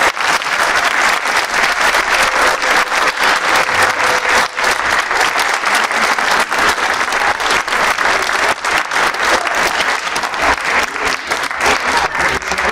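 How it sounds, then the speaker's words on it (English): Sustained, loud round of applause from a large audience at a prep school stage production of Peace Child, dense clapping continuing steadily for over twelve seconds with little else heard. "So I just want everyone to give a big round of applause to"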